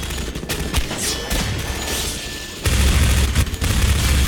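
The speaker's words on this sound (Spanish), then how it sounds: "Dos disparos." Gunfire in the video game Half-Life 2 bursts out loud and close over a constant roaring game soundscape, with booming shots and a heavier rumble in the second half.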